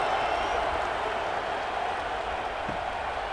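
Steady stadium crowd noise from a college football video game, Arkansas versus Nebraska, a dense continuous roar of cheering and murmur just after a touchdown, even in level throughout and heard without a commentator over it.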